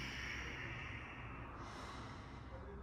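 Steady, close breathing during yoga practice, with airy exhales and inhales over a soft background hiss.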